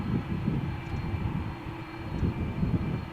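An Aer Lingus Airbus A330 taxis for takeoff at Malaga Airport on a stormy morning, a steady low engine rumble with a faint whine, moderately close and continuous, with no voices.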